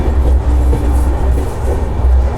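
Indian Railways double-decker express heard from the lower deck on the Ahmedabad to Mumbai run, a steady loud low rumble with faint wheel clatter as the train rolls past a station.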